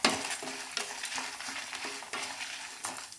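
Dried red chilies and rice dry roast in a pan for idli podi, with repeated rhythmic stirring scrapes over a light sizzle, close and without voices.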